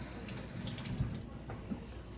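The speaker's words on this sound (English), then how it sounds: "Rinse off the pepper off my hand" Tap water runs steadily into a kitchen sink while pepper is rinsed off a hand, a soft continuous splash with a couple of small knocks partway through.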